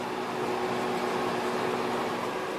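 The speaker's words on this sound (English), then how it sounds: "I've got that in the microwave" A microwave oven defrosting food runs with a steady, even mechanical hum and a low electrical drone, unbroken throughout, nearby.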